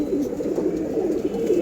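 Pet pigeons coo in soft, throaty, repeating calls, several birds overlapping close by in a low continuous burble.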